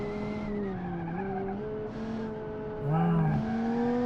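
A drift car in a video game howls through its gearbox, its engine tone rising and falling between shifts, then tires squeal in a brief skid near the end, all loud and continuous.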